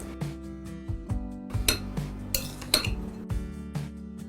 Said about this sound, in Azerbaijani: Şəkər tozu edib, ləpənin üzərinə əlavə edib qarışdırırıq.